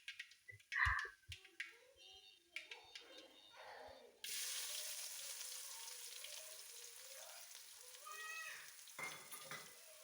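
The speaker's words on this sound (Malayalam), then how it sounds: "ഇനി സവാള നന്നായി വഴറ്റിയെടുക്കണം" Sliced onions hit hot oil with mustard seeds and then sizzle steadily, a faint frying hiss broken by a few knocks and stirring scrapes from a utensil in the pan, made while cooking tapioca biryani.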